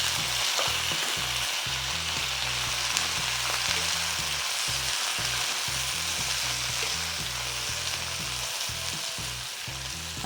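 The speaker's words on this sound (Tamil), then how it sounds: "இப்போது இந்த செல்லரி நம்ம வந்து கட் பண்ணி வச்சுருக்கோம் இல்லையா, அதை எடுத்து இதில் போட்டுக்கோங்க." Chopped celery frying in a pan for a celery chutney, a loud continuous sizzle and crackle throughout with steady stirring and no voices.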